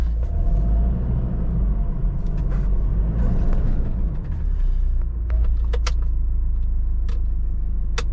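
A Nissan Pathfinder engine idles with four-wheel low engaged, giving a steady, loud, close low rumble. A few faint clicks sit on top of the rumble, and no voices are heard.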